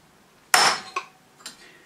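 A sharp cold chisel struck with a hammer along a scribe line on metal: one loud ringing metallic hit followed by two softer taps about half a second apart, close and alone in a quiet garage.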